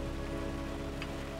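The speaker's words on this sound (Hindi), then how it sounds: "बारिश हो रही है।" Steady rain pours down continuously, a dense even patter with a low hum of tones underneath, heard alone without voices.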